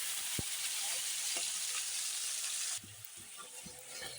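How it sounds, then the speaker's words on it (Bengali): Potatoes sizzle and crackle steadily in hot oil with salt and turmeric, with a few faint knocks from stirring; the frying drops somewhat quieter near the end. "আলুটা এখন একটু লবণ হলুদ দিয়ে ভেজে নেবে"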